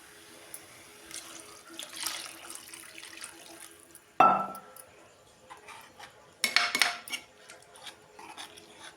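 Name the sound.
pouring water into a cooking pot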